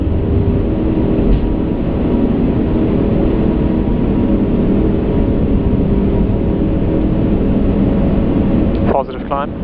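Airbus A380 engines at high power during a night takeoff in rain with low clouds, a loud steady broadband roar heard from the cockpit that holds for most of the stretch, with a brief shift near the end.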